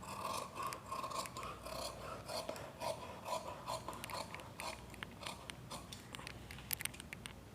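Scissors cut through blouse fabric for a double-layer ruffle-sleeve blouse, producing a steady run of close, repeated snipping and rasping strokes with no talking.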